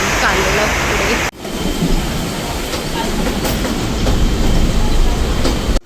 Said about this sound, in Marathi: ट्रेन आलेली आहे आणि चाललेलं पुढे.